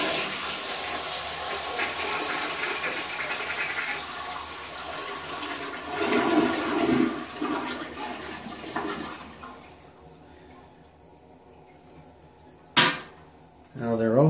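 A toilet with its water supply shut off flushes to empty the tank, a loud gurgling rush that fades into quiet trickling, followed by a sharp clunk near the end.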